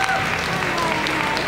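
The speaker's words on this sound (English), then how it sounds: "Give yourselves a round of applause, ladies and gentlemen." An awards show audience applauds loudly in a continuous, dense roar of clapping and crowd noise, with speech-like sound mixed faintly underneath, lasting only a brief moment.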